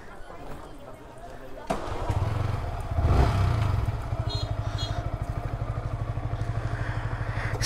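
A Yamaha R15M motorcycle with a weak battery starts up after being push-started, its engine settling into a steady, loud, rapid idle thump, with voices talking over it at first.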